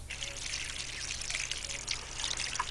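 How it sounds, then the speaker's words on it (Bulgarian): Water poured onto garden plants, a steady close trickle and splash running throughout, with a faint low hum beneath. "Поливаме, поливаме, поливаме, поливаме, поливаме"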